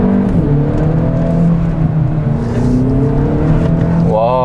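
A Hyundai Avante N Line's engine pulls hard in second gear toward about 6000 rpm, a steady loud drone with rising harmonics and a quick upshift near the end.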